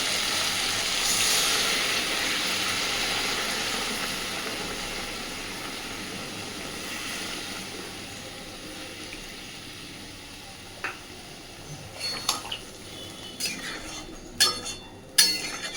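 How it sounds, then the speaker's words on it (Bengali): Water is poured into a pan of ridge gourd and potato frying with poppy seed, setting off a loud steaming hiss that slowly fades, followed by a few light clinks of a utensil against the pan. "এবার দিয়ে দেবো পরিমাণ মতো জল।"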